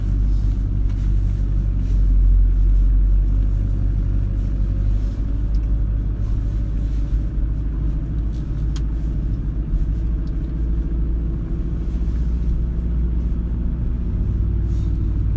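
A 2005 Mitsubishi Shogun Sport driving off-road across a field, its engine giving a steady loud low rumble throughout, with slight swells in effort as it moves.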